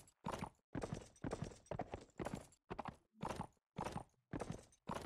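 Horse hooves clip-clop in the medieval combat game Mount & Blade Warband, a steady run of loud, close, evenly spaced hoofbeats with short silent gaps between bursts.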